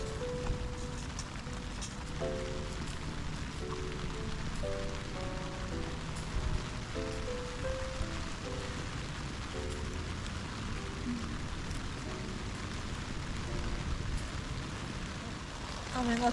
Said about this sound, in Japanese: 雨が強くなってきた。